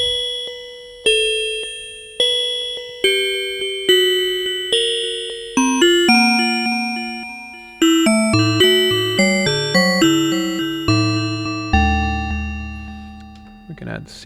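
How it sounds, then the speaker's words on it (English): Metallic FM bell tones synthesized on a DSI Pro 2, with a steel-drum-like timbre and a crude reverb built from many short delays with heavy feedback; bright struck notes repeat in a steady melodic sequence, with decaying tails and deep low notes toward the end. "Here it almost sounds like a steel drum."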